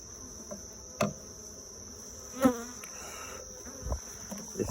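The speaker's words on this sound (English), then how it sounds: "I'm gonna go ahead and just swoop these bees in here." A swarm of honeybees buzzing steadily in and around a Layens swarm trap, a continuous insect hum close to the microphone, with a few louder bumps and thuds as the bees are swept inside.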